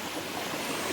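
A little stream flows beside a campsite in the rain, a brief continuous wash of soft rushing water with no other sounds.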